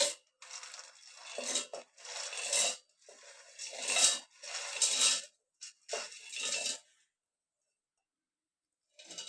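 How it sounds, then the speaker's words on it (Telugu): Peeled peanuts poured into a steel mixer jar for peanut chikki, bursts of rattling, clinking patter as the nuts tumble in several separate pours, separated by short pauses, then silence. "మిక్సీ జార్లో యాడ్ చేసుకుందాం పల్లీలు"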